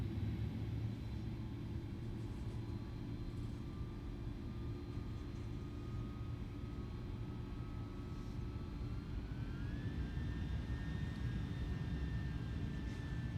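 FedEx cargo jet engines in Microsoft Flight Simulator rise in pitch as they spool up for takeoff, a steady roar with a climbing whine partway through, no talking.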